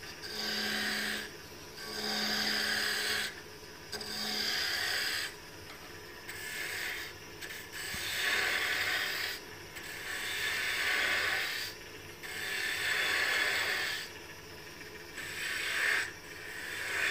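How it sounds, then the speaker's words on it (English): A spindle gouge cuts a wooden spindle turning on a lathe, making a soft rasping scrape in repeated passes of one to two seconds with short pauses between them, fairly faint and with no talk. "I'll break it down with the bigger spindle gouge, and then I'll go ahead and switch over to smaller one."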